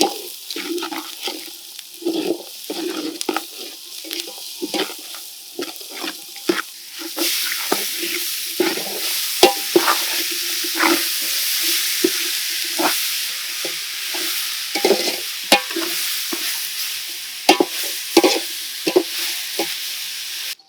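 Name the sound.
onion and tomato being sautéed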